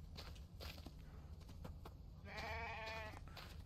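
A sheep bleats in The Infected video game, a wavering nasal cry near the end that rises clearly over low ambient game noise and soft footsteps.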